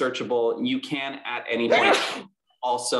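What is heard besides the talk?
a sneeze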